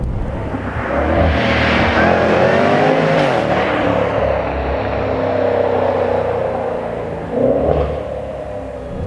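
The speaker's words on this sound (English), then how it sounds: "revving this thing out and charging hard towards the red line is just so exciting." Supercharged V8 of a 2022 Jaguar F-PACE SVR revving hard toward the red line: a loud, close engine roar climbs in pitch, eases slightly, then surges again near the end.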